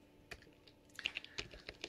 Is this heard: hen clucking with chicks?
no